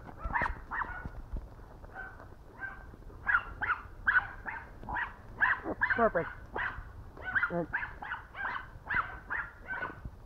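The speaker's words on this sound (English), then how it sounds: "If my neighbor's dogs keep barking" Neighbor's dogs bark repeatedly nearby in a string of sharp yaps and woofs, some overlapping, while a person speaks briefly.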